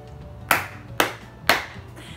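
Three sharp hand claps, close and evenly spaced about half a second apart, each with a short decay into a quiet room.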